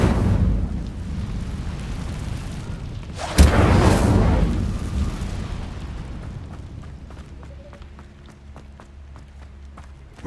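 Incendio fire spell cast in Hogwarts Legacy, a sudden loud whooshing burst of flame, sustained roaring for a couple of seconds and then fading into quieter ambient game sounds with small clicks.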